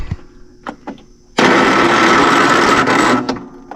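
A lawn mower engine with a weak battery cranks over for about two seconds, a loud close whirring grind that fails to catch, preceded by a few faint knocks and clicks.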